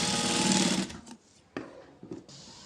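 A sewing machine top-stitches the neck of a blouse in a loud, fast, steady whir that stops abruptly, followed by a few short knocks and brief bursts of stitching.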